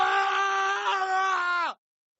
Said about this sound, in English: you get one scream because that is a scary super chat